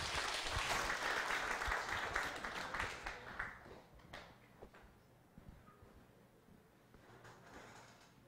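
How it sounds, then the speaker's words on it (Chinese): Audience applause in a lecture hall welcoming a lecturer to a Taiwan history class, loud sustained clapping for about three seconds that thins into scattered claps and fades under room noise. "请大家以热烈的掌声欢迎"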